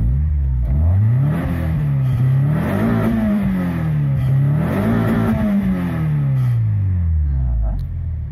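Citroën Xsara VTS engine running on E85 ethanol, revved up and down in a few smooth rising and falling sweeps, close and steady with no speech over it.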